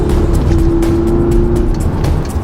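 A 2007 Audi S6 sedan's V10 engine runs hard with a sustained high-pitched whine, loud and close, with road and tire noise underneath.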